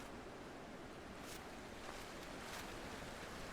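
A waterfall in the video game The Witness gives a steady, very faint broadband rush of falling water that continues evenly throughout with no voices.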